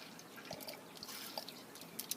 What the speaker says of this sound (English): So you just need to pour in, squeeze out 1/4 cup of lemon juice.